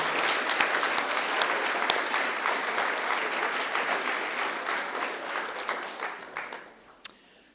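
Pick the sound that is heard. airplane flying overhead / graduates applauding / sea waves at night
graduates applauding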